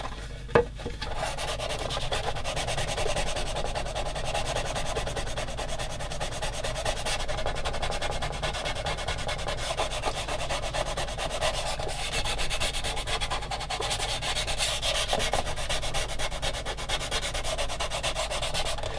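Steady rubbing of a soft sanding stick on a part of a 1/16 scale Takom M10 IIC Achilles model tank destroyer, a continuous close scratchy back-and-forth texture running nearly twenty seconds after a brief tap at the start, with no talking.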